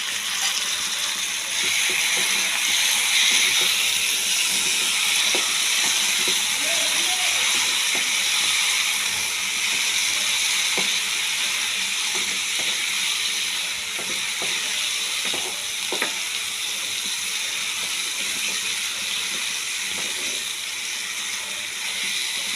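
Water poured into chana masala in a hot pan, raising a loud, continuous sizzling hiss that holds steady close by.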